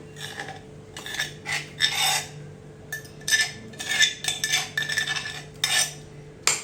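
A mashed bhorta of elephant apple and hog plum mixed with salt is scraped and poured into a bowl, with repeated metallic spoon scrapes and clinks against the dish, close and fairly loud.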